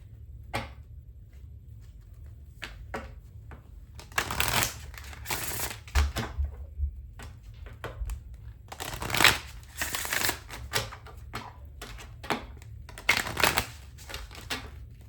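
Oracle cards are shuffled in quick, soft riffling bursts separated by brief pauses, close and fairly quiet.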